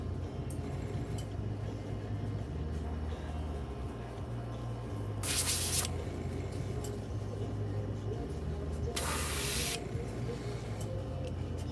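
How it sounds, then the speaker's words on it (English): An airbrush being cleaned out gives two bursts of sharp spraying hiss, each roughly half a second to a second long and several seconds apart, over a steady low background hum. "I had to clean out the airbrush"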